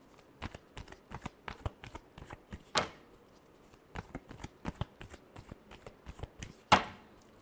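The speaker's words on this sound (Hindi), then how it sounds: "Last shuffle." Tarot cards are shuffled in repeated rapid riffling bursts with soft slaps, close and fairly quiet, with no talking.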